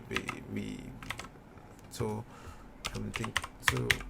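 Computer keys tapped in short, uneven bursts with pauses between them, close and fairly quiet, ending in firmer strikes like the enter key, with a voice talking over parts of it.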